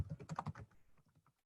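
A short, quiet burst of computer keyboard typing: several quick keystrokes in a row, then a few softer taps that trail off.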